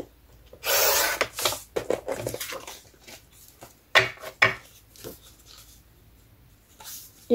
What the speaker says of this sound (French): je vais couper cette grande languette là